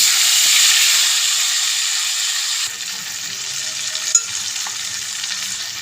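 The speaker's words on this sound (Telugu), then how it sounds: "డీప్ ఫ్రై చేసుకుందాం కొంచెం ఆయిల్ పోసుకున్నానండి ఇప్పుడు ఉడికించిన ముక్కలు దాంట్లో వేసుకుందాం చికెన్ ముక్కల్ని ఇదిగోండి వేసేసుకుందాం" Boiled chicken pieces deep frying in hot oil, a loud, steady sizzling hiss that eases slightly after a few seconds, with a brief clink partway through; no voices.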